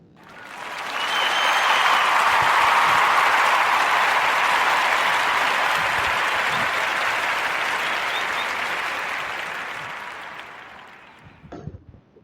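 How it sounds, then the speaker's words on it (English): Warm applause from a crowd for a coffee and tea shop's owners, swelling quickly and holding steady for about ten seconds before fading out. "So give a warm round of applause for Aisha and Abdul in the AT Oasis Coffee and Tea Shop."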